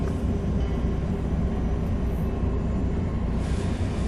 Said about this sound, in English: It was already dark when the train departed from Chicago Station.